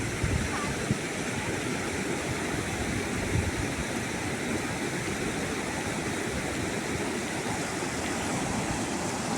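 Rushing water flows steadily and loudly throughout, a dense continuous roar like a fast stream, with no pauses.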